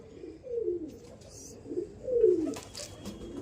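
Several drawn-out coos from a double mor pigeon, close and fairly loud, rising and falling in two main swells with softer calls between.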